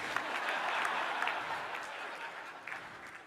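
Audience applause during the Oklahoma City mayor's State of the City address, a steady wash of clapping from a crowd, moderately loud and fairly even throughout.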